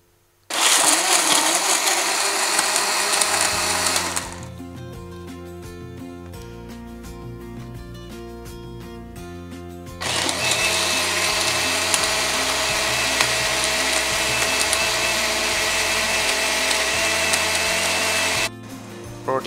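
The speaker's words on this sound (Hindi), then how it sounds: "दूध डालने के बाद इसको ग्राइंड कर लेंगे।" An electric mixer grinder blends half a kilo of milk into a homemade protein shake, a loud high whirring motor running in two long bursts with a quieter humming pause between them.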